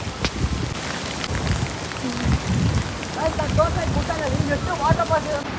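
Dense monsoon rain pours steadily onto surfaces at Savalaya Ghat, Maharashtra, with a low rumble beneath, and faint voices or birdlike calls rise over it.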